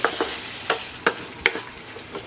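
String beans frying in a pan while a spatula stirs them, with several sharp scraping strokes spaced through a soft steady sizzle, close and clear.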